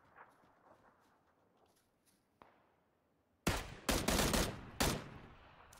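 Gunshots ring out in a video game, several sharp loud cracks in a quick irregular burst after a few seconds of quiet game ambience with faint thumps.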